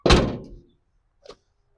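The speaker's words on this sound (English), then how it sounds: "So we'll shut the door and try it out." A 1948 GMC custom truck door with tuck-and-roll upholstery swings shut with one solid, close thunk that fades quickly, followed by a faint short click a second later.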